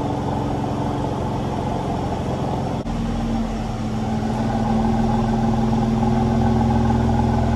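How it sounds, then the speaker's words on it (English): A Mercedes C43 AMG with Redstar downpipes idles in Sport Plus mode, its exhaust giving a steady, low, humming drone that holds level and close-up throughout, with no speech. "the exhaust note of just humming, sitting in idle"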